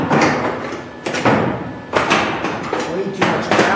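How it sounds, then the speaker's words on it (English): The door of a 1959 GMC Fleetside pickup is swung and closed in several loud metallic thuds and bangs spaced about a second apart, close by, with a voice nearby. "Just going to close the door here."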